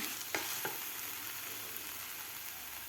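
Moong dal and fenugreek leaves being mixed in a pan give a faint, steady sizzle with two early soft spatula scrapes, quiet and close, no one speaking.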